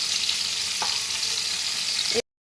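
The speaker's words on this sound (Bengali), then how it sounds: "পটলগুলো ভাজা হয়ে গেছে, এবার আমি পটলগুলো উঠিয়ে নিচ্ছি।" Pointed gourd (potol) fries in a pan with an even, hissing sizzle at moderate volume, then the sound cuts off abruptly into silence.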